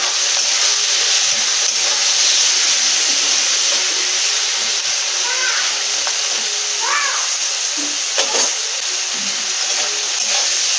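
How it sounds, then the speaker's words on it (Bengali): Prawns fry in hot oil with turmeric powder and salt, giving a loud, constant sizzle and hiss close up. Faint stirring scrapes come through now and then. "প্রথমে চিংড়ি মাছগুলো ভেজে নেব"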